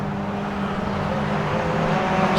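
Club racing cars at the Rockingham circuit in a 750 Motor Club event, their engines droning in a loud, steady rush as they pass, with a slight rise in intensity toward the end.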